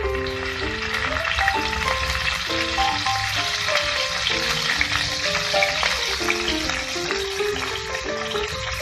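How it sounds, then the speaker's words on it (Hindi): Okra (bhindi) frying in hot oil for an Odia dish, a dense, continuous hiss and crackle close up with a steady melodic music track running underneath. "तेल गरम हो गया, फिर भिंडी डालेंगे।"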